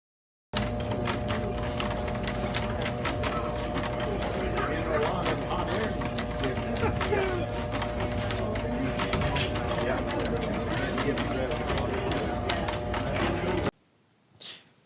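An antique yarn-making machine patented in the 1800s runs at a threshing show, giving a dense, continuous mechanical clatter and whir that holds steady for about thirteen seconds before cutting off abruptly.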